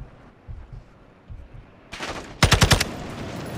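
Modern Warfare II (2022) video game gunfire erupts after a quiet stretch: a burst of noise, then a loud, fast string of about six close automatic shots.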